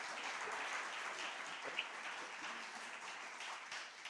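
A church congregation applauds during a Spanish-language service, a steady, fairly faint wash of clapping that continues without pause.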